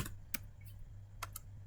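A computer keyboard is typed on during a Cisco CCNA port security lab, giving a few quiet, sharp key clicks spaced irregularly over a low steady hum, with no talk.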